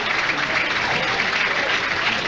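A bowling crowd at the Bay City Classic, a 1998 match, claps in steady, dense applause for about two seconds, evenly sustained and fairly loud with no voices standing out.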